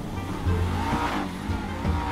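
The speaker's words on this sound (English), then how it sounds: "I could start up this GTR too." Nissan GT-R in GTA 5 starting up into a steady, loud, close engine drone that rises slightly near the middle, with no talk over it.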